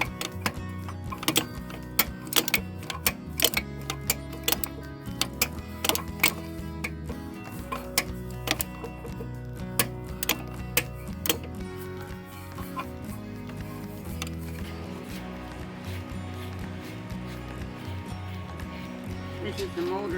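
A ratchet with a flexible socket clicks rapidly in short bursts while removing engine bolts from a 2011 Hyundai Santa Fe GL V6 in a garage, and someone talks quietly over the work.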